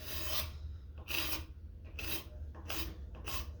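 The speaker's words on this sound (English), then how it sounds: "I'm just going to scrape off all the old shellac" A card scraper rasps old shellac off a carving axe handle in five distinct, evenly spaced strokes, each a crisp, close scraping burst separated by short quiet gaps.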